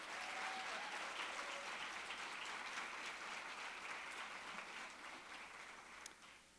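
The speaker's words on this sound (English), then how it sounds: "let's all give Candace a round of applause" An audience at a Montana Chamber of Commerce event breaks into a steady round of applause, a dense wash of many hands clapping that holds strong and then eases slightly toward the end, with no talking over it.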